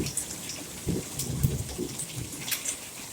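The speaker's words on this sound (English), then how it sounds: "There's the thunder right behind it." Thunder rumbles low beneath steady rain during a West Tennessee hail storm, the rain pattering close and continuous, with a soft rolling swell in the middle and no talking.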